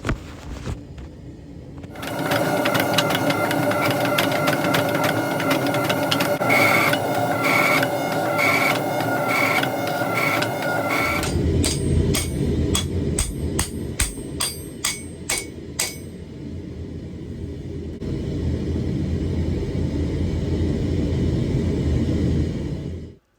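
Steel ingot is hammered into a square bar for a Viking-era Petersen Type X sword, with loud rapid machine-like hammer blows that run steadily, then slower ringing strikes and a long rumble.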